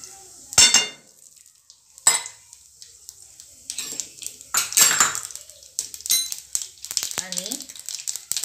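Metal spoon scraping and pushing cumin seeds around a frying pan in hot oil, with intermittent clinks and scrapes amid a faint sizzle, heard up close.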